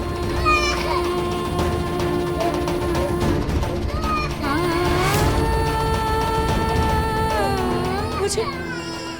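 A baby wails in rising and falling cries in a Hindi TV serial scene, over a background of music and other sound, with voices speaking at times.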